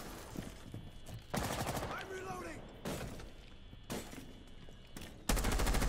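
Bursts of automatic gunfire in the tactical shooter game Rainbow Six Siege, several loud rapid volleys separated by short pauses, with a voice speaking between and over the shots.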